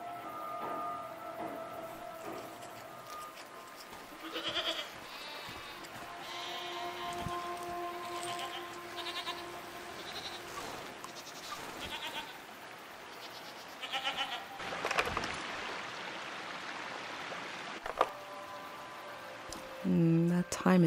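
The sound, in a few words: goats bleating in a video game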